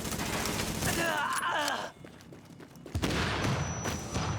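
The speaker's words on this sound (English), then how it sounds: "those explosions hurt a lot more when you're not tanky" Explosions and bursts of gunfire from an action video game sound in loud, dense clusters, cut by a short lull and then a fresh sharp burst, with groaning mixed in.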